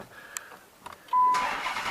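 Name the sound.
Dodge Challenger Hemi engine starting up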